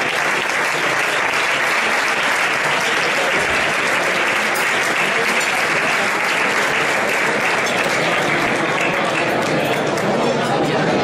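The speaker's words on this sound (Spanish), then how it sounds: "Un fuerte aplauso," Loud, sustained applause from a large audience at a bullfighting awards ceremony in Spain, dense, even clapping filling the whole stretch without letting up.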